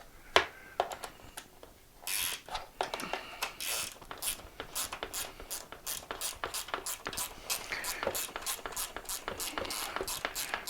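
A ratchet working a 10 mm bolt while taking apart an EV Rider automatic folding scooter, with fast, steady pawl clicks in repeated bursts, close and alone.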